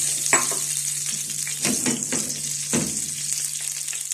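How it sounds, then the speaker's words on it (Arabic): Sardines frying in oil hiss steadily in a pan as they are flipped, with a few soft scraping and turning clunks over a constant sizzle and a low hum; no one talks. "وكنقلب باش كنعاود نطيبو من الجهه الاخرى"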